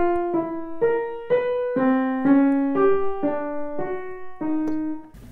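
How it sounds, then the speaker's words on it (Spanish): A twelve-tone atonal music excerpt: a slow succession of about ten sustained, ringing pitched notes that wander without a clear key, played alone and fairly close. "Dodecafónica significa música de 12 sonidos."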